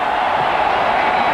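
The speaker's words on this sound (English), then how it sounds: "This is about as noisy as you'll hear a crowd in the big house in Ann Arbor" Dense, steady roar of a large football crowd at Michigan Stadium in Ann Arbor during a 1996 college game, loud and continuous without a break.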